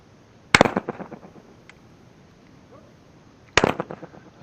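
Two sharp shotgun blasts from a Fabarm Axis RS 12 trap shotgun firing 1 1/8 ounce number 8 shot, about three seconds apart, each a loud close crack followed by a brief echoing tail in an open outdoor range.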